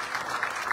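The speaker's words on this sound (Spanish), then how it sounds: "un aplauso." Brief burst of applause from a crowd at a community event handing out certificates, steady clapping heard only for a moment.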